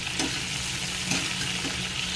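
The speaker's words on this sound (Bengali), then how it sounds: "রসুনটা দিয়ে একটু ভেজে নেবো" Steady sizzle of garlic frying in hot oil, a continuous crackling hiss with faint stirring scrapes now and then.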